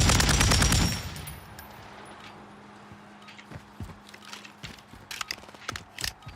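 Gunfire in a video game opens with a loud, dense burst of rapid shots, then falls to quieter, scattered single cracks and short clusters spread across the rest.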